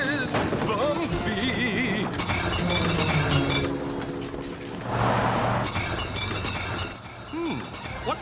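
Glass jars of overly fizzy liquid burst and shatter in a cartoon, with a crash of breaking glass and clinking shards over busy music and effects.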